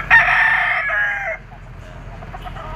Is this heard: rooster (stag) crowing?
yes